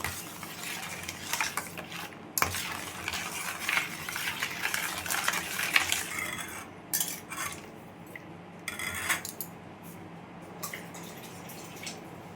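A spoon stirring sugar and five spoonfuls of black pepper powder into raw mango pulp for aam panna: steady, close clinking and scraping against the vessel, with wet dripping sounds mixed in and no talking.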